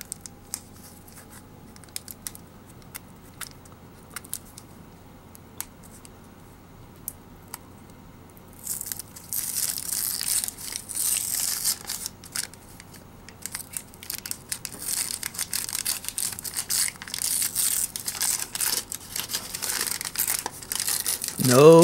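Crinkly wax-paper wrappers of 1991 Donruss Series 2 baseball card packs being torn open up close, a quiet start giving way to sustained crackling and ripping over the second half.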